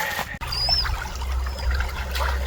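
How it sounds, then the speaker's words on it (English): Several inches of running water flowing over ice on a hiking trail, a steady close trickling and pouring wash with a low rumble underneath, continuous throughout apart from a brief dropout near the start, no voices. "it's also got several inches of running water on top of the ice"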